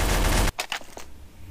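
Burst of SAW machine gun fire in Counter-Strike: Source, a loud dense continuous stream of shots that cuts off abruptly, followed by a few scattered sharper cracks trailing off.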